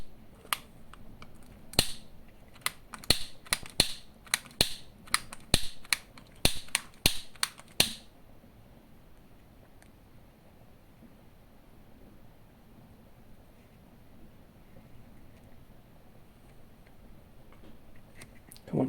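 A lighter is struck again and again, a quick series of about a dozen sharp, close clicks over several seconds, trying to light a homemade olive oil lamp, then quiet room tone follows.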